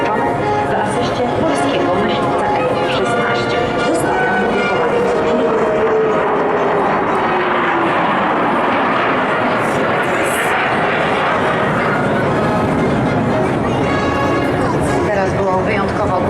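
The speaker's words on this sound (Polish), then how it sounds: "zaprezentuje się formacja złożona z dwóch samolotów F-15 z sił powietrznych Stanów" Two US Air Force F-15 fighter jets roar overhead at a military parade in Katowice, Poland, a loud sweeping engine noise that swells and fades while an announcer talks over a loudspeaker and a crowd murmurs.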